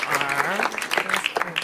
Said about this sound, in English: And let's all give Gabby a round of applause.